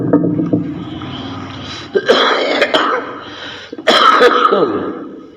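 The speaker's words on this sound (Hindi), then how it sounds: "हमको भी खांसी हो गई है।" A man coughs and clears his throat in a few harsh bursts, loud and near, with short pauses and a faint voice in between.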